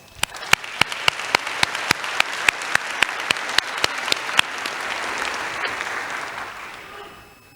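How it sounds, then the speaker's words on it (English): A conference plenary audience applauds student paper award winners, with crisp, evenly spaced loud claps from one nearby person over a swelling wash of crowd clapping that gradually tapers off. "I hope you join me in giving them one more round of applause"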